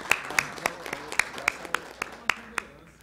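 Applause at a plenary council meeting: a small group clapping in a sparse, uneven rhythm of about a dozen distinct claps, moderately close.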